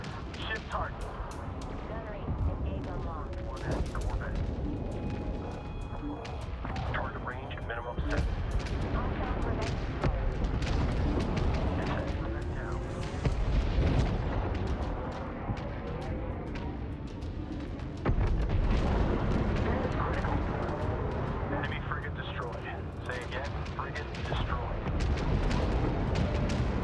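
Space fleet weapons fire in the video game Homeworld 3, a long dense barrage of booming blasts and explosions with crackling impacts, continuous and loud, with voices talking over it.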